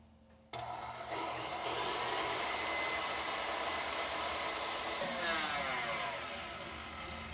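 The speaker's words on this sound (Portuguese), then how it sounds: "Agora na batedeira eu vou bater as claras em ponto de neve" An electric stand mixer whirs into life and beats egg whites to stiff peaks, its motor drone steady and loud throughout, with the pitch shifting slightly near the end.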